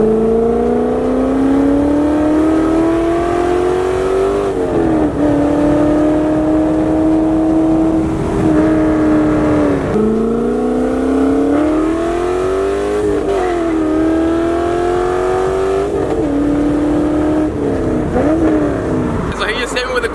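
Garage-built C5 Corvette race car engine revving loudly and close, rising and falling in repeated pulls over about twenty seconds, with talk faintly underneath.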